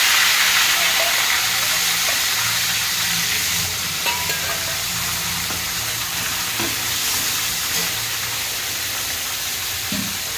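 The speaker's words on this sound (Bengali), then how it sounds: "এগুলোকে এবার আমি একই রকমভাবে লাল লাল করে ভেজে নেব।" Fish heads fry in hot oil, giving a steady, dense sizzle and hiss throughout with a few faint clicks and bubbles, close and fairly loud with no talking.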